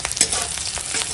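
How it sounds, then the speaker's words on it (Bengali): Onion and green chili frying in hot oil, a dense close crackling sizzle with brief stirring scrapes throughout. "পেঁয়াজটা ভেজে নেবো"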